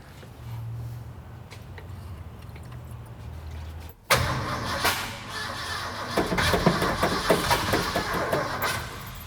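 A Ford F-100 pickup that sat in a field for ten years has its engine cranked without catching. A quiet low hum gives way to an abrupt loud burst and then a run of rhythmic cranking pulses.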